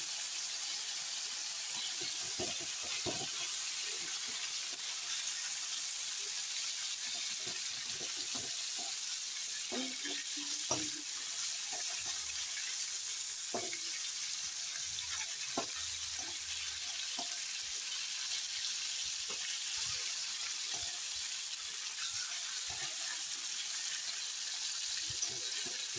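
Fish heads sizzle in hot oil in a pan during home cooking of a two-kilogram fish head curry. The frying hiss is steady and continuous, with occasional soft clinks and taps and no talking.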